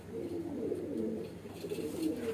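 A light-flying pigeon coos softly and repeatedly nearby, low throaty rolling calls in a steady rhythm without any speech.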